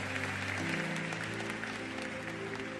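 Audience clapping during a church sermon, a steady wash of applause filling the whole short stretch at moderate volume, with a faint voice or music tone underneath.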